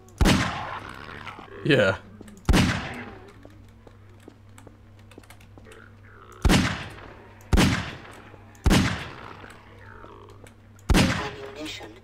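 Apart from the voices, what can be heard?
gunfire through walls in video game Half-Life 2: Aftermath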